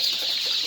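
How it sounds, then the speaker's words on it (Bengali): Desi chickens on a small farm give a steady, close clucking that fills the short moment, with a bright hiss of background noise running underneath. "আমাদের দেশি মুরগিগুলো এখন আপনারা দেখতেই পারতেছেন"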